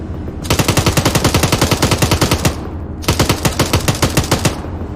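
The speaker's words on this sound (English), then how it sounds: "I hear a AK to our north." AK rifle fire in a military simulation game rattles out in two long, loud automatic bursts of rapid, evenly spaced shots, separated by a brief pause.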